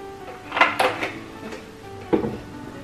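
Wet cupcake ingredients for red velvet cupcakes, milk among them, stirred roughly in a bowl: a few close clinks and scrapes of a utensil, bunched early with one more knock later, no voices.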